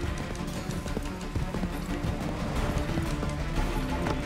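Horse galloping in Assassin's Creed 3 Remastered, a steady stream of clip-clop hoofbeats running continuously under dense game sound, fairly loud and close throughout.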